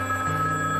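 A telephone rings with a brief, steady electronic tone, close and alone.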